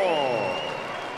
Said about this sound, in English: A big round of applause for both of our warriors.